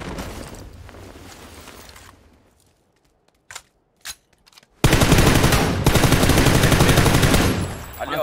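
Bursts of rapid automatic gunfire in a multiplayer shooter video game, a loud sustained spray after a brief quiet gap with a few isolated shots, close and dominant.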